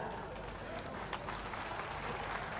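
Guests at a public event in Meerut with the Chief Minister present give a welcoming round of applause, a steady wash of crowd clapping at moderate distance, with a voice speaking over it.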